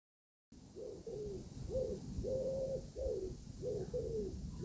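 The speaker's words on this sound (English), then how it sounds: "We have a family of wood pigeons living in our garden trees, so you hear that noise all the time" Soft, hollow cooing of wood pigeons in garden trees, repeating in a steady rhythm of low phrases, fairly close, over a faint background hiss.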